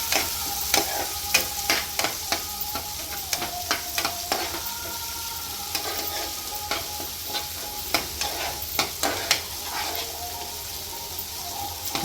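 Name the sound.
tomatoes sizzling and being stirred in pan for upma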